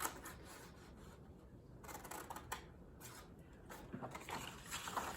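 Scissors cutting a rectangle out of orange paper, a quiet series of short snipping and rustling strokes, close and faint, with no talk.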